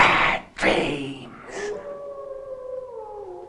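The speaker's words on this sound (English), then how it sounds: "A wolf? I've heard them howl the night before." A wolf's long, drawn-out howl rises and then holds a wavering tone at night, heard fairly close after a couple of brief voice sounds at the start.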